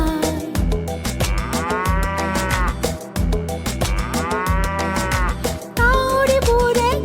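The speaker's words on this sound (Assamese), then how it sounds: "গৰুৱে হেম্বেলিয়া" Drawn-out cow moos, two rising and falling calls, ring out over a busy musical backing in a song that lists farm animals and their calls, with a brighter call near the end.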